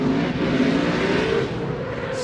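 A Ford Mustang RTR drift car at a Formula Drift competition in Texas roars at high revs, a steady, loud, continuous engine howl that eases slightly near the end.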